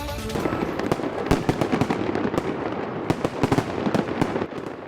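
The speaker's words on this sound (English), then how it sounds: "the New Year's fireworks have already been set off in downtown St. Louis" New Year's fireworks bursting over downtown St. Louis, a dense barrage of sharp cracks and booms layered over a continuous rumble, loud and fairly close.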